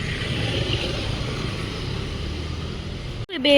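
Steady road noise from passing cars fills the scene, a continuous low engine rumble that cuts off abruptly near the end.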